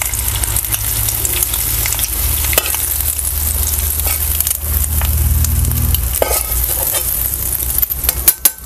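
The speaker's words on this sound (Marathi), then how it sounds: "सगळीकडे मसाला लागायला पाहिजे अशा पद्धतीने आपल्याला हे परतून घ्यायचं." Eggs sauté in masala in a pan with a loud, continuous sizzle, broken by stirring scrapes and a couple of sharp clinks of a utensil against the pan at the end.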